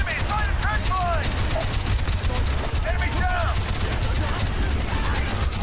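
Rapid automatic gunfire in Call of Duty Black Ops, set in Vietnam, rattling continuously and loudly with ricochet-like whines over it, while a person talks during the firing.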